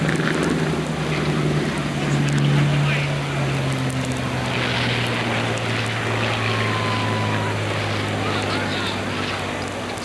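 Propeller fighter planes, a P-51 Mustang and a Zero, at an air show, their engines droning steadily with a rising and falling pitch, heard from a distance under an announcer's voice.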